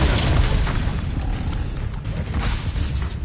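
Incendio fire spell blasting in Hogwarts Legacy, a dense roaring burst of flame that stays loud and rumbling through its full length with a heavy low end and no voices.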